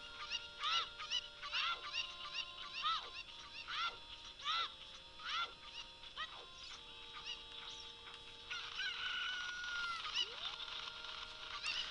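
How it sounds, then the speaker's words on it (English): Chickens in the village of the Zelda Ocarina of Time video game squawk and cluck in a rapid repeating series, a dozen or so sharp honking calls over a steady game background hum, ending in a longer drawn-out cry. "I've never heard chickens actually squawk this much."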